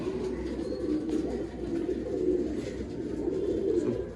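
Pigeons of the Kulmi (a male) and HMT breeds coo in a steady low, continuous murmur from close by, with no voices over it.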